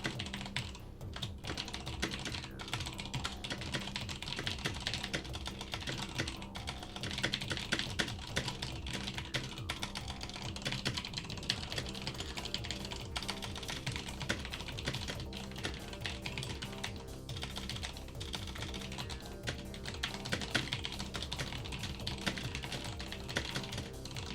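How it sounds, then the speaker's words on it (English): Rapid typing on a computer keyboard running OfficeVision/VM-era office software, a dense, continuous clatter of keystrokes that holds steady and close throughout with no talking. "we're going to push F10, and we're going to go into power typing"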